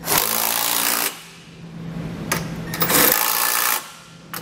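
A ratchet socket wrench snugging the bolts of a Curt trailer hitch receiver on a 2022 Subaru Forester, heard as close, loud bursts of rapid clicking separated by short pauses.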